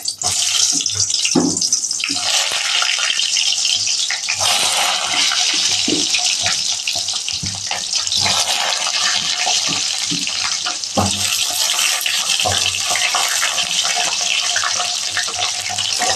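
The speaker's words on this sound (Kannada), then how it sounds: "ಇವಾಗ ಎಣ್ಣೆ ಚೆನ್ನಾಗಿ ಕಾಯ್ದಿದೆ. ಇವಾಗ ಬದನೆಕಾಯಿಯನ್ನು ಬಿಡುತ್ತಿದ್ದೀನಿ." Eggplant pieces fry in hot oil with a loud, steady, close sizzling hiss that continues without a break, and no voices are heard.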